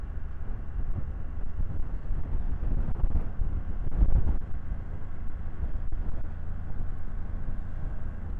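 Steady wind buffets the microphone while a 2024 BMW F900GS Enduro motorcycle rides on a road, giving a constant low roar with a faint engine hum beneath.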